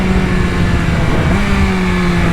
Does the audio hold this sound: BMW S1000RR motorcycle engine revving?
yes